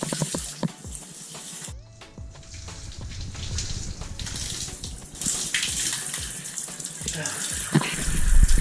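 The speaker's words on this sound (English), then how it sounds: "now rinse everything out your hair" Water runs steadily from a tap while hair is rinsed out after an apple cider vinegar rinse for locs, a continuous close splashing hiss that swells toward the end.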